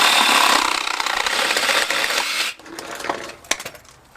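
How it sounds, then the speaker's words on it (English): A small piece is cut during a hot tub diverter valve repair, a steady rasping cut for about two and a half seconds that stops abruptly, followed by a few light clicks and knocks. "Got to cut one more for the other side."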